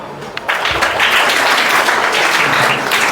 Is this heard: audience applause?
yes